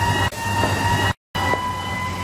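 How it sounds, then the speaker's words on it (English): An ambulance siren sounds loud and close in a sustained, steady tone that cuts out briefly for a moment before resuming, with no talking. "is that the sound of an ambulance? Yes, it is."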